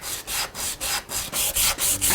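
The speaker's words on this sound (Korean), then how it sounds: "다듬기는 사포로 하는데 다양한 크기의 갈기목을 사포에 감아 사용한다." Sandpaper wrapped around a wooden block rubs back and forth over wood during lacquer-craft finishing work, a series of about nine close, rhythmic scratchy strokes with short pauses between them.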